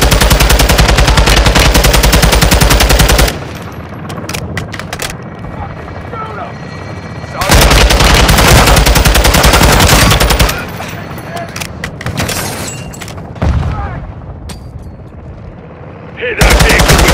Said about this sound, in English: Ready for gun run, so mark it.